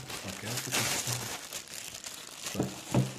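Crinkling plastic wrap being pulled and torn open from a Ryobi One+ 18V battery up close, with bursts of crackle and a low voice murmuring underneath.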